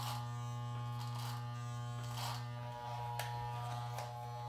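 An electric beard trimmer fitted with a comb guard buzzes steadily at close range for the whole stretch, a constant motor hum with faint rustling as it runs over the beard, no talking.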